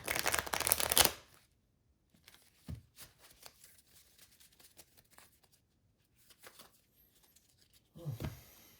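Tarot cards riffled in quick bursts, a loud shuffle at the start and end with soft scattered card handling and taps between, close up, no voices.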